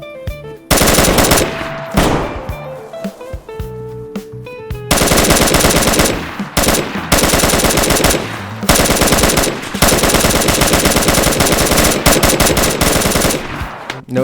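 Gunfire from a player fight in the video game DayZ: loud, sustained rapid automatic bursts that pause briefly and start again, close and dominant, with no talking.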